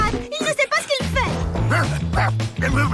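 Cartoon dog barking and whimpering in an animated series, short yips and whines mixed with loud cartoon music and sound effects throughout.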